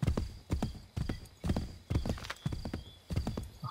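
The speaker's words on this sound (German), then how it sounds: "Und jetzt reiten wir bergab." Hooves pound out a regular galloping rhythm as a horse runs downhill in Assassin's Creed III. About eight strong, evenly spaced beat clusters land near and loud.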